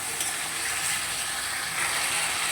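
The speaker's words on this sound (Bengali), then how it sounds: "অল্প করে একটু গরম জল দিয়ে এবার কষিয়ে নেব।" Spice paste sizzles and crackles in a hot pan after a splash of hot water, a continuous bright frying hiss with faint scraping, close and moderately loud with no talking.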